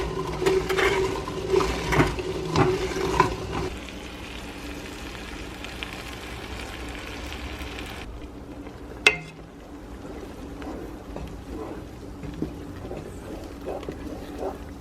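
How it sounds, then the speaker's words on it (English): Cranberries simmer in a pot with soft, scattered pops and bubbling, one sharper crack midway; quieter after the first few seconds. "and then you get to watch all the cranberries pop"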